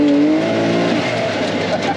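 A dirt bike engine revs on a dirt track, a steady, fairly close motor drone with rising pitch that holds for the whole stretch, with faint talk in the background.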